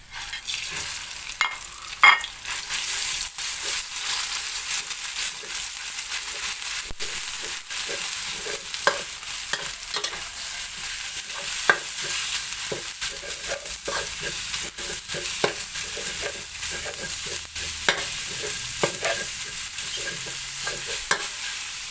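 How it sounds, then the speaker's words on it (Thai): Pork and chili paste for northern Thai nam prik ong stir-fry in hot oil, giving a steady, close sizzle throughout with frequent sharp scrapes and taps of the utensil against the pan, and no talking. "พักหมูให้หอมนะครับ"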